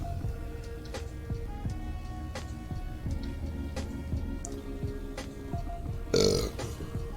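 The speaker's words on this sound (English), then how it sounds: "That's a burp." A single loud burp after a meal of fish, hash browns and beer bursts out near the end, standing above steady ticking and soft background engine hum from a truck driving game.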